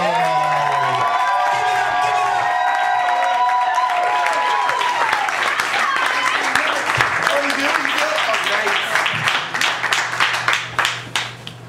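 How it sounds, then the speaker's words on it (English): A crowd applauds and cheers as a poet is welcomed to the stage at a spoken-word event, steady dense clapping with whoops running throughout and tapering toward the end, with a voice speaking over it early on. "let's give her that applause as we welcome to the stage, Ty Freedom Ford"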